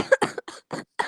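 A person coughs several times in a short, uneven burst, close and clear, with a throat-clearing quality and no speech.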